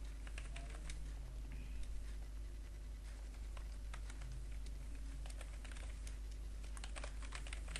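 Steady typing on a computer keyboard while entering figures for a daily balance sheet, a close, continuous patter of light key clicks over a low, constant hum, with no speech.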